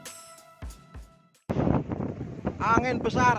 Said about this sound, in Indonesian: Angin besar Pondok Ungu